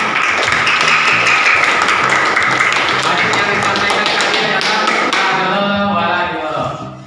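A madrasah classroom of pupils claps together in a quick, rhythmic, loud, close patter, with voices mixed in before the clapping tapers off at the end.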